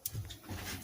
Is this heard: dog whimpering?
yes